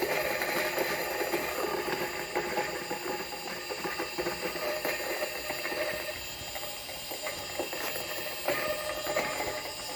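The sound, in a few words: electric coffee grinder grinding beans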